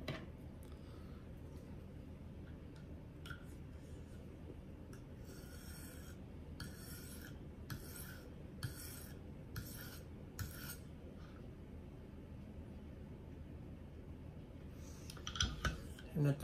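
Kitchen knife edge worked on a KME guided sharpener, a series of about half a dozen short, regular raspy stone strokes near the mic over a steady low background, with a louder scrape at the end.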